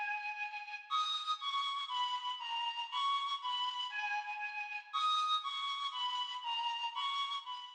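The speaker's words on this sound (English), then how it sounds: "layered on top of this is a mellow, kind of scary flute that plays this pattern." A mellow, eerie flute melody from an FL Studio trap beat plays a looping pattern of breathy sustained notes stepping up and down, steady and clear with no talk, layered over a horn sample.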